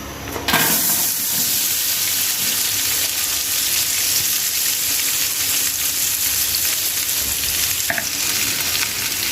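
Finely chopped onions, a kilo of them, sizzle and fry in a litre of oil in a deep cooking pot, a steady loud crackling hiss that holds throughout after a brief quieter start.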